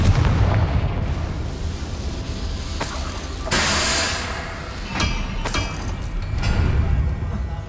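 Confringo blasting-spell explosions in the video game Hogwarts Legacy: several sharp booming blasts burst over a continuous rumbling game background, each flaring loudly then settling back into the din.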